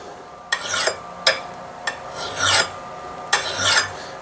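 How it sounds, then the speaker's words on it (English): Rasping strokes of a file sharpening the bit of a Kelly Perfect double bit axe, five distinct scrapes in uneven rhythm, some short and sharp, others longer and drawn out, close and clear with no talking. "A lot of people suggest sharpening away from you on these axe bits because you might slip into it."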